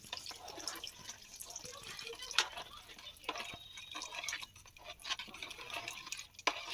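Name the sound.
pouring gram flour mixed in water into pot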